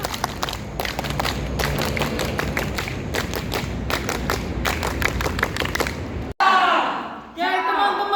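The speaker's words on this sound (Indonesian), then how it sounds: "Dua kali tepuk pramuka" A group does two rounds of the Indonesian scout clap (tepuk pramuka) at a scout training gathering: loud, fast rhythmic claps in patterned bursts for several seconds, then a short break and a voice speaking.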